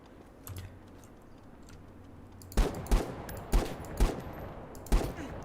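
Gunfire in a video game shooting match: about five sharp, loud shots spaced irregularly over a few seconds, following a quieter stretch of low background hum.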